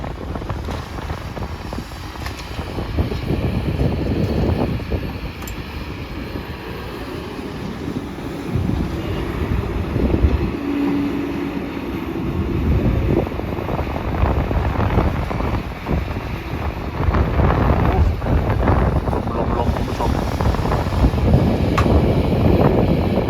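Gusty wind buffets the microphone at a red-clay excavation site where a new SK200SM-10 excavator loads sticky red soil, a steady roar with louder bursts and faint machinery rumble underneath, no talking.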